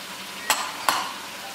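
A spoon stirs banh xeo meat filling in a hot frying pan, giving two short scraping clacks over a soft steady sizzle.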